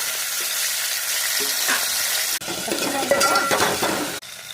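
Tomato pieces hit hot oil with onion greens and kasuri methi, giving a loud, steady sizzle. Stirring clatters against the pan, and the frying swells up again after a short break midway.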